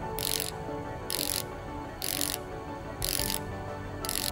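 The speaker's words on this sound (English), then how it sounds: "We can now use the screwdriver to put in place the pedicle screw." A surgical simulator screwdriver driving a pedicle screw into a spine model gives a series of about five regular ratcheting clicks, roughly one per second, over a low steady background hum.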